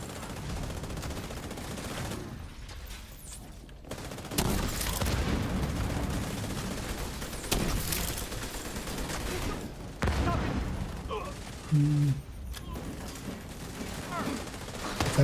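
Chem launcher weapon in a video game firing in bursts of gunfire-like blasts across the whole stretch, loud and dense against a busy game soundscape.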